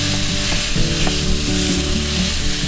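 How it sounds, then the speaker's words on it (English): Lean ground beef, 93/7, sizzles steadily in a hot skillet, a loud continuous frying hiss with soft stirring scrapes and no talk. "I'm just gonna add in my lean ground beef."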